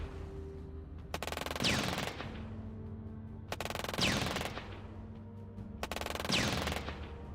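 Three bursts of machine-gun fire in the strategy game Shadow Empire, each a loud rattling volley about a second long, spaced a couple of seconds apart over a low hum.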